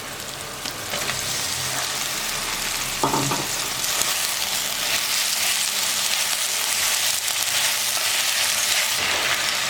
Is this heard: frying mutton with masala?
yes